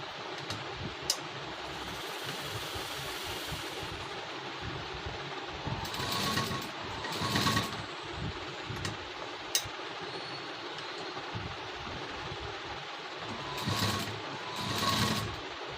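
A sewing machine stitches fabric piping in short, quiet bursts of mechanical whirring separated by pauses.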